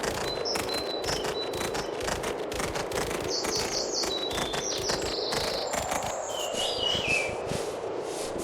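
Bird calls in a horse-riding video game: bright chirps and short tweets repeat over a steady hiss of ambient outdoor noise, moderately loud and continuous.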